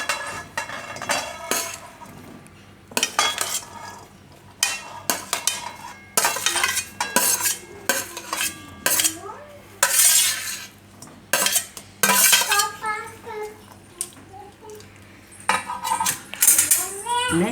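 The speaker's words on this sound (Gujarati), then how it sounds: "તો હવે આ એક કઢાઈ લીધી છે, તો એમાં આપણે આ બધા બટેટા નાખી દેવું" Potatoes and peanuts are stirred in a kadai pan, giving repeated close metallic scrapes and clinks of a spoon against the pan in irregular bursts, with soft pauses between strokes.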